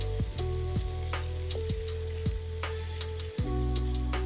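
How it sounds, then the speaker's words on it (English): Water hitting a hot pan of roasted ingredients while cooking chicken tikka masala, bursting into a loud, continuous sizzle with a few clinks of stirring utensils against the pan. "I'm gonna add some water"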